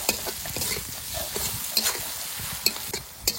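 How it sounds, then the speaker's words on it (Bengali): Sliced onions sizzle with a spoonful of salt in a pan while a spoon stirs them, giving a soft steady fry with a few sharp scraping clicks, close and without any voices. "পেঁয়াজটা একটু ভালো করে ভেজে নিয়েছে"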